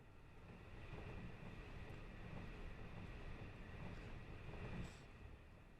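Bullet train in the Train Drive ATS video game rolling slowly past a station, a low steady rumble with faint rail noise that swells briefly near the end, fairly quiet overall.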